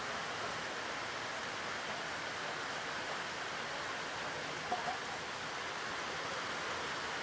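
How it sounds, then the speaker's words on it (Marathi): Heavy monsoon rain pours steadily near the Marleshwar temple, a dense, unbroken wash of hiss with no letup and no voices. "पाऊस आलाय जोराचा."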